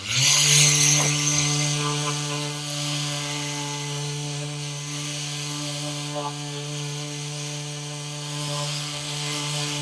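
A power sander with abrasive strips old finish from a door, a loud steady motor whine with a strong tonal hum running continuously, briefly rougher at the start as the abrasive meets the surface.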